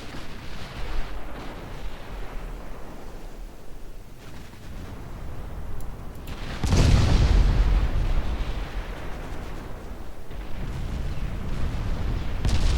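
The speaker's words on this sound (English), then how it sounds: "Big hits from the battleships." Battleship guns fire and shells strike home in Ultimate Admiral Dreadnoughts, heavy booms over a rumbling battle backdrop, with one especially loud blast midway.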